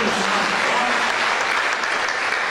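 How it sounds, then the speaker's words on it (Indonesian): Audience at an EM2 2016 event applauds, a dense, steady burst of clapping from a crowd, loud and close throughout. "Tepuk tangan anak itu."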